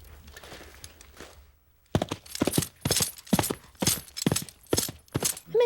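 Foley plungers tapped in a studio to imitate horse hooves, a run of about nine sharp, evenly paced clip-clop knocks that follows a quiet stretch with faint background noise.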